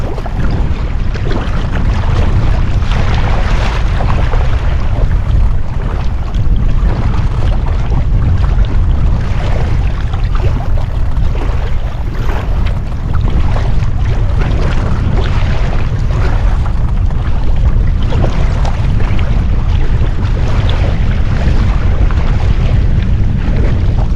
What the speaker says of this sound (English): this horrendous wind which I cannot keep my bow into. It's blowing that strong.